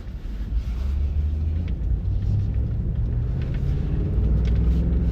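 A 2020 Ford F-350 Super Duty Tremor truck drives through deep snow in a nor'easter storm, giving a steady, loud, low engine and road rumble from inside the cab that holds constant the whole time.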